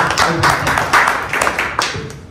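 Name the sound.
audience applause at meeting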